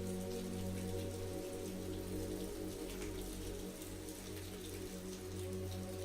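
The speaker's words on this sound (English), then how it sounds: "The town of Meadowbrook experienced a sudden downpour" Rain falls steadily in a sudden downpour over a town, with a constant hiss of drops and a low continuous rumble underneath, even and unbroken throughout.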